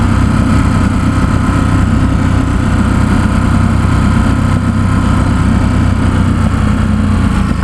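A 2017 Ducati SuperSport S motorcycle engine on a San Francisco test ride, a loud, steady, close-up engine drone with a constant low rumble and no noticeable change in pitch throughout.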